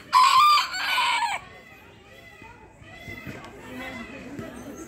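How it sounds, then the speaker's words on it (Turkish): A rooster crowing at a zoo in Ünye, Turkey, one loud close crow at the start followed by quieter clucking and distant voices of visitors and children. "Bak bak horoza bak."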